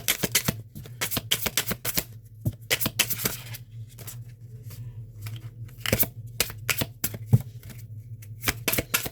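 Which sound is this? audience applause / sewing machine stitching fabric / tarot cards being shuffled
tarot cards being shuffled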